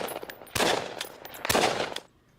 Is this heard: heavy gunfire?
yes